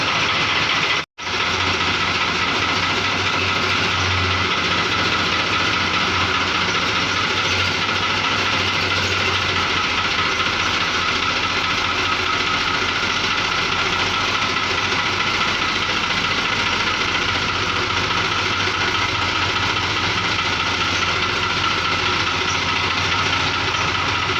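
A tractor engine on a farm runs at a steady, loud idle, a continuous dense rumble with a brief drop near the start, then unbroken throbbing for the rest, close by with no talking.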